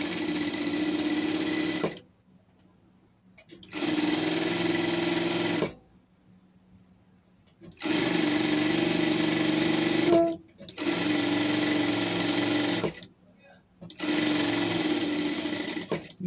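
A sewing machine stitches tulle for a pet dress, beginning with a backstitch, and runs in five loud, steady bursts of rapid whirring separated by short pauses.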